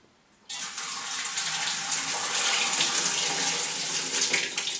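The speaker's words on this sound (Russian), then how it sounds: "Заливаем литр холодной воды" A litre of cold water poured from a jug into a home steam autoclave, a sudden onset of steady splashing gush that runs on continuously, close and alone.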